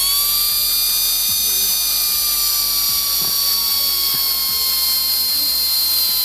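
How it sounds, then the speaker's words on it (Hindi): Angle grinder cutting through a bicycle chain gear, a loud continuous high-pitched whine with a slowly drifting tone and faint rhythmic knocks underneath, running without a break. "तो चलिए फिर अभी इसे हम ग्राइंडर से कट कर लेते हैं"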